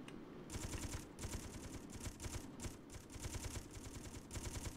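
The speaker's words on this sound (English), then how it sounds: "we're getting shot kind of a lot here" Rapid automatic turret gunfire in the space game Space Engineers, a steady stream of bursts with short gaps, fairly faint and continuous with no talking.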